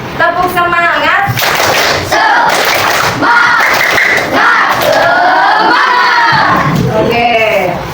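A fifth-grade elementary class performs a rhythmic spirit clap, sharp group claps landing in a patterned beat while the children chant loudly together between and over the strikes.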